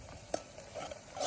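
Onions and masala are stirred in a pot at an outdoor hillside cook-out of village chicken, a brief moment of soft sizzling with a single sharp spoon clack near the start and low scraping.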